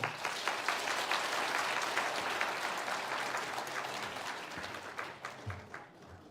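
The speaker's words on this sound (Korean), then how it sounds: "인사할 때 격려의 박수 하시겠습니다." A Korean church congregation gives encouraging applause during a Sunday worship service, a steady, full roomy wash of many hands that tapers near the end into a few louder, scattered claps.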